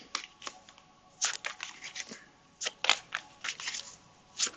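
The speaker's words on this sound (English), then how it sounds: "I'm just going to keep shuffling and let the cards lay out" Tarot cards being shuffled by hand, close and soft, with irregular bursts of riffling and flicking over a quiet background hum.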